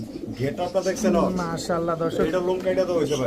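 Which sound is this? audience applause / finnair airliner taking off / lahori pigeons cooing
lahori pigeons cooing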